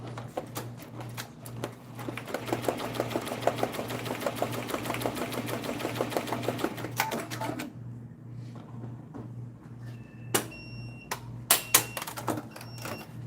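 Embroidery machine stitching a design at a rapid, steady mechanical rattle over a low hum for several seconds, then stopping, followed by a few sharp clicks and beeps.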